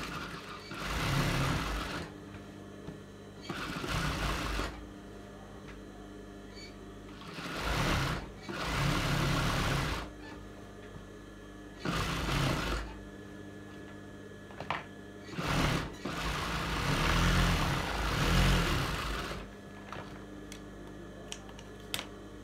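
A sewing machine stitches the pocket of a pair of chaddi shorts in a series of short, uneven bursts with brief stops between them. It is close and steady throughout, with no talking.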